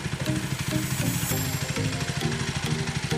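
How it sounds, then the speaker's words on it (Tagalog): A CF Moto 300SR motorcycle engine drones loud and continuous for a few seconds, a steady throbbing hum with faint wind noise. "Sobrang bilis ng takbo ng bagong motor niya"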